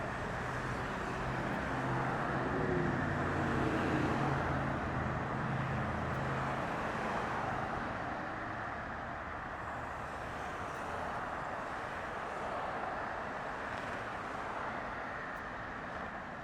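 An airliner landing at Las Vegas airport: a steady, broad jet roar that swells slightly and then eases off, heard from a distance with no voices.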